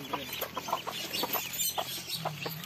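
Chickens clucking on a Philippine farm, a close, busy run of short repeated clucks and calls over a low, steady background hum.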